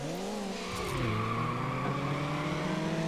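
A car engine in the video game Need for Speed Underground revs up toward redline, its pitch climbing and shifting in quick steps, loud and continuous with no talk.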